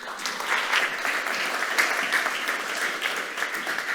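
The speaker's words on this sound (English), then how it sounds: "Big applause." An audience at a green energy startup pitch summit gives a dense, continuous round of applause, evenly loud throughout without pauses.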